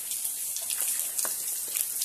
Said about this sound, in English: Oh, we have another waterfall up here.